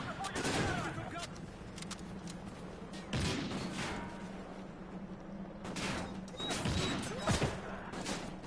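Call of Duty: Ghosts firefight with bursts of automatic gunfire and sharp shots repeating in clusters, fairly loud against a busy game background, no voices clearly heard.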